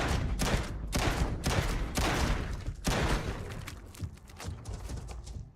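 Ship weapons fire in the space game Star Citizen: several loud, heavy bursts of rapid shots, each lasting a fraction of a second, followed by weaker, more scattered thumps as the barrage fades.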